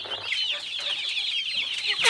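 Local chickens cluck close by in a quick series of sharp, busy calls that overlap throughout, with no talking.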